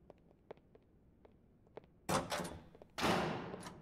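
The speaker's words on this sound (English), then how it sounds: "the way the door just opened" A door opening in the Black Mesa video game, heard as two loud broadband whooshing, grinding bursts about a second apart after a few quiet clicks.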